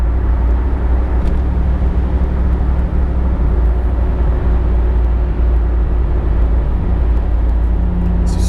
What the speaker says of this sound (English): I'm gonna slow it down here so I can get a nice torquey pull up this little